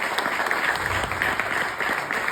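Seminar audience at a Vestige youth empowerment event claps steadily, a dense, even patter of many hands lasting the whole moment, fairly close and without speech.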